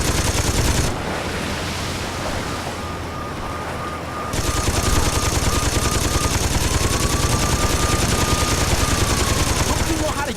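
Sustained machine gun fire in Saints Row 2, a dense, loud, continuous rattle of rapid shots that runs nearly unbroken for about ten seconds over a steady roar of engine or wind noise.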